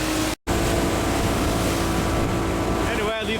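A motorboat runs over choppy water on the Hudson River, its steady engine roar and wind rush continuous and close, with a brief dropout near the start and slapping spray toward the end.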